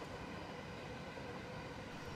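Trains running on Tokyo rail lines, a dense, steady broadband roar and rumble of a passing train, loud and unbroken throughout with no voices.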